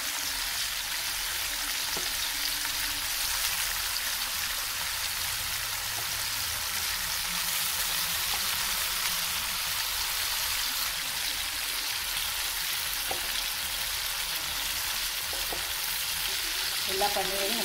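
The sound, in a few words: paneer frying in hot oil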